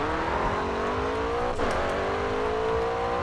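Race car engine in the GRID 2 racing game, revving hard and steadily climbing in pitch as it accelerates, with a brief gear-shift dip midway, loud and continuous throughout.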